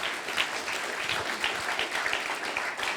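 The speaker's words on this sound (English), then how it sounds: "One more round of applause, please." A lecture audience breaks into sustained applause, a dense, steady wash of many hands clapping close and loud for the full length with no voices over it.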